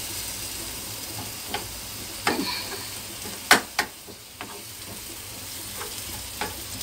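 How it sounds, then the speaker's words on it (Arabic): Spinach from the freezer fries in a pan with a steady soft sizzle, broken by a few sharp spits and crackles as the moisture cooks off. "غادي نبقى كيف تقلى هاد الصبانخ اللي جبت من الكونفيراتور"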